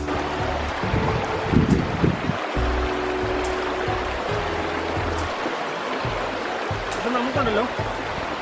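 A fairly large stream in Vagamon, Kerala, near a tunnel gives a steady broadband rush of flowing water, with someone talking over it throughout.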